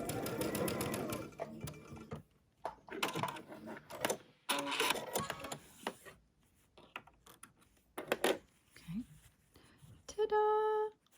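A sewing machine stitches quilt pieces for a butterfly quilt, running in short separate bursts with gaps between them and quiet handling sounds in the pauses.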